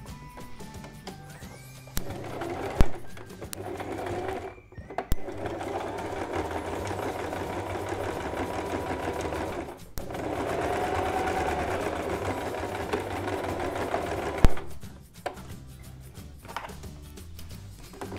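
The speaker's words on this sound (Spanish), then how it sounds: "Quitamos de la máquina y cosemos el segundo bolsillo." A sewing machine stitches a pocket onto a travel baby changing pad in long steady runs. Each run is broken by brief pauses and clicks as the fabric is repositioned, and no one speaks.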